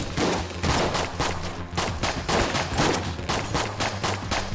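Rapid pistol gunfire from the unfinished pistol in Enter the Gungeon, a steady run of crisp shots at a fast, even rhythm, loud and close over a low game music bed.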